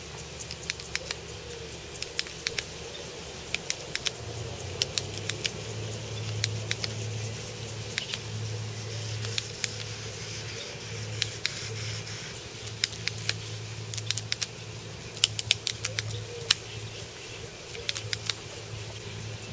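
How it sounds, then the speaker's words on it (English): Ratcheting pruners snip wood into small pellet-sized chunks for a small woodgas stove, giving sharp, close clicks and snaps in irregular clusters over a low steady hum. "Using a pair of pruners like this, especially ratcheting ones, allows you to make small pellet-sized chunks of wood for a midge like this really quick."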